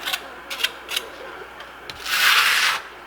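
A trowel spreads Venetian plaster for a concrete-look finish on a wall, using Modern Masters plaster. A few short scrapes come first, then a longer, louder rasping sweep, close by with no talk.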